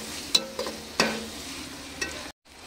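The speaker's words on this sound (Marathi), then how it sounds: "आता भाज्यांमध्ये मिक्स करून घेऊया।" A spatula stirs Schezwan chutney into vegetables in a pan, making a few distinct scraping clacks over a soft sizzle before the sound cuts out abruptly near the end.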